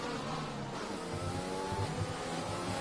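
A Formula 1 race car engine running with DRS open down a straight in a racing video game, a steady high-pitched whine that holds throughout at moderate level with no voices.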